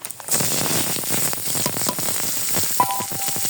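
Onions hitting hot smoking oil for a dried fish curry, with steady, loud frying hiss and crackle running throughout, plus a brief clink partway through.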